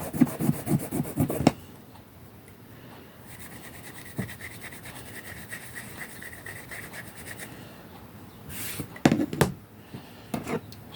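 A wet wipe rubs over a craft stamp to clean it, giving soft scrubbing strokes at the start and again near the end, with a quiet gap of faint handling in between.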